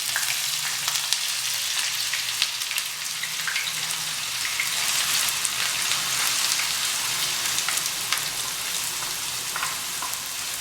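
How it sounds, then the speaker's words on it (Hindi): Six chopped onions fry in hot oil and ghee in a kadhai, a steady, dense sizzle like light rain that holds at an even level throughout, close and alone. "अब इसके अंदर हमने जो ये प्याज ये थे चॉप किए हुए 6 इन्हें डालते हैं हल्के से।"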